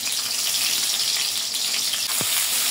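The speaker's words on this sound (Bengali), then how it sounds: "পেঁয়াজ দিয়ে একটু হালকা ভাজা ভাজা করবো।" About half a cup of onions fry in hot oil for a Bengali poppy-seed country chicken dish, giving a loud, continuous sizzle with one brief stir or scrape near the end and no talking.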